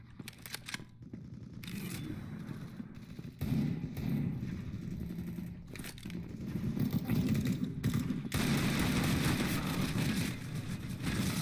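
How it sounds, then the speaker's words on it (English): Rapid handgun gunfire in the video game CS:GO, a run of sharp shots and impacts layered over dense in-game noise, fairly loud and continuous with brief pauses. "Very good shooting."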